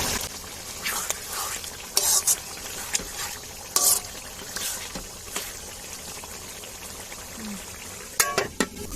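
Onions fry in oil for a chicken gravy, a soft sizzle broken by several sharp scraping and stirring bursts against the pan, close and intermittent.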